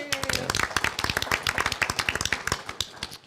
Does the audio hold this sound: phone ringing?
no